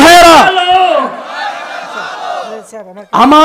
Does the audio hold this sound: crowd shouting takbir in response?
yes